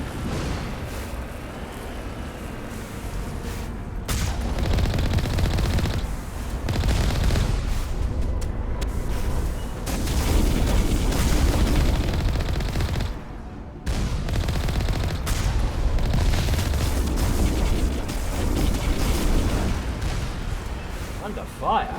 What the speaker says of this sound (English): I'm being fired upon though.